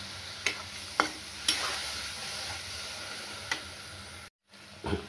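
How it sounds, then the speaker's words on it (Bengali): Spice masala of coriander powder, poppy seed paste, chili and turmeric with water, sautéed in a pan for a potato and ivy gourd dish, sizzles steadily while several scraping stirs break through, then goes briefly silent before the sizzling resumes. "1 চামচ ধনে গুঁড়ো দিয়ে আমি জল দিয়ে দেবো। মশলাটাকে কষবো ভালো করে।"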